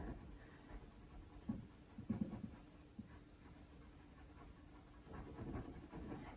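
Soft scratchy strokes of a colored pencil going over paper, faint and close, with intermittent rubbing passes and small pauses, no talking.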